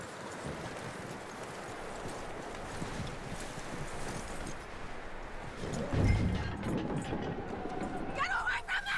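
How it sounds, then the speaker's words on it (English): Horse hooves clop steadily in a Red Dead Redemption 2 game scene, mixed with background voices and ambient noise, with a louder impact near the end. "That looks like a decent horse."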